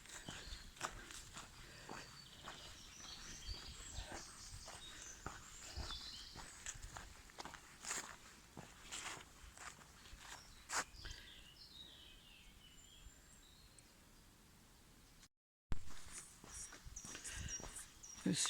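Footsteps crunching softly on a forest floor along a pilgrimage path in the Gers countryside, an irregular walking rhythm close by, heard beneath quiet talk with faint birds in the background.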